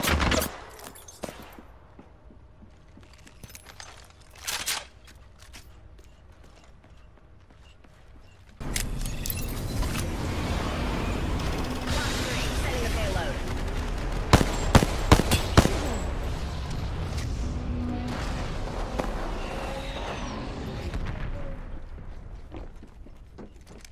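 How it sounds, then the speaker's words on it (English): Gunfire during an Apex Legends match, with loud sustained shooting and sharp bursts taking over after a quieter stretch of scattered shots and footsteps, continuing near and dense to the end. "I'm getting shot at. Joker's shooting at me."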